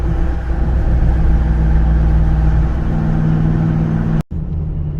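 Ram TRX pickup fitted with an AWE exhaust gives a loud, sustained rev of its engine at about half throttle, a deep rumbling roar that holds steady for several seconds before cutting off abruptly near the end, then resuming more quietly.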